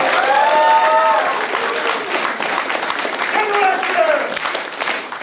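Audience applause at a 2009 martial arts belt ceremony for students promoted to yellow belt, steady clapping throughout with voices talking and calling out over it.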